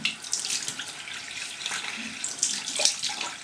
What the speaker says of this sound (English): I apply some water on my face.